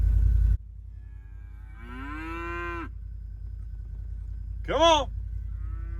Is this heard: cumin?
no